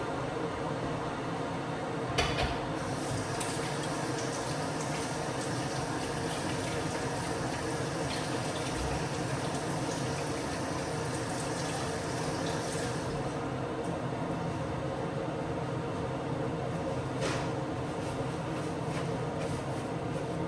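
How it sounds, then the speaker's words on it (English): A kettle roars with a steady, dense rushing hiss of water coming to the boil, continuous throughout with a few faint clicks. "so I'm just boiling the kettle"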